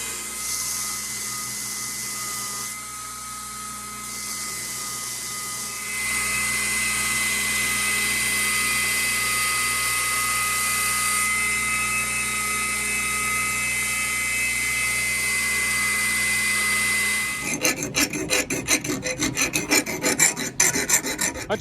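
Belt grinder rasping steadily against a ball bearing Damascus karambit blade, a loud continuous abrasive whir that shifts pitch as pressure changes, turning rougher and more broken near the end.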